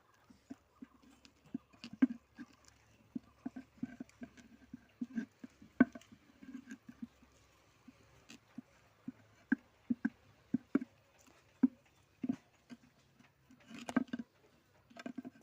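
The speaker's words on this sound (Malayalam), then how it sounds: "ഇനി നമുക്കിതൊന്ന് ഇളക്കി കൊടുക്കാം കേട്ടോ." A ladle stirs a liquid nitrogen culture of jaggery water in a container, giving repeated soft sloshing knocks and scrapes in an irregular rhythm, close and moderately loud, with no talking.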